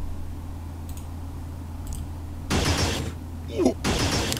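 Gunfire in the strategy video game Xenonauts: bursts of sharp, loud shots and crackling impacts, one after another, at close range over a low steady hum.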